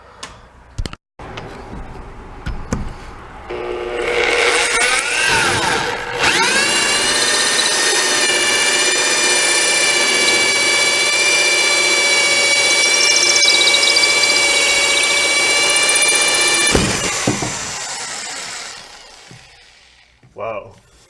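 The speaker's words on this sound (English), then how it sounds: "I'd say it drills pretty good" A DeWalt power drill with a replaced armature whirs steadily at high speed for about ten seconds, loud and close, with brief clattering before it starts and after it stops.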